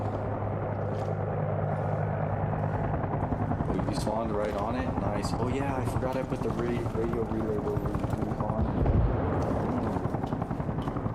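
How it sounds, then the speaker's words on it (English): A helicopter's loud, rhythmic rotor thump and engine drone fill a battlefield in Arma Reforger, steady throughout as players talk over it. "That is a helicopter of some delineation that would like to land here."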